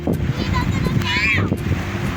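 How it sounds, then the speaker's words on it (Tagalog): Low rumbling wind buffets the microphone beside a river in Nueva Ecija while a voice speaks underneath, with some faint higher chatter in the background. "Maririnig niyo medyo maingay yung ano natin kasi mahangin."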